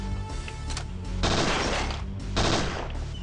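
Gunfire in the PlayStation survival-horror game Parasite Eve 2, loud bursts of rapid shots in two main volleys with scattered single shots before, over a steady game soundscape.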